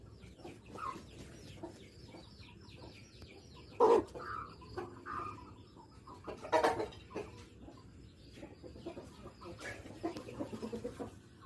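Sick chickens with fowl cholera, being dosed with medication, cluck softly and intermittently, with a few sharper, louder calls standing out from the low background.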